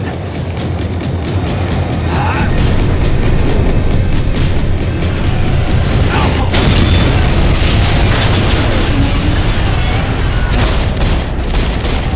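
A tram rumbles along its rails in the video game Max Payne 3, loud and continuous with heavy low-end roar, metallic rattling and a few sharp bangs or bursts.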